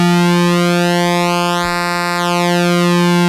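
A Behringer JT Mini synth holds a single bright, buzzy note while its pulse width sweeps, so the tone slowly shifts in timbre, rising and falling over a few seconds, loud and alone.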